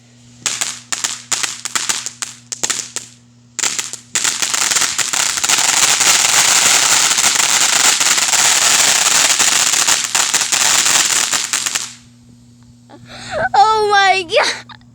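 Fireworks and firecrackers go off loud and close, first as a string of sharp separate bangs, then as a long dense crackling barrage that stops abruptly, followed by excited voices.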